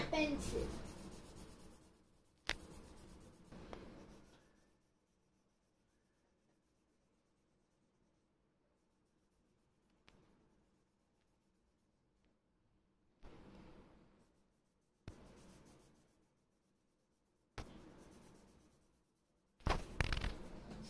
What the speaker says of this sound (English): For tail, color half of the tail yellow till here.